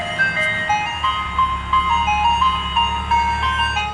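Tinny, high-pitched ice cream truck music jingle loops steadily over a low engine rumble, the repeating melody clear and fairly loud with no talking.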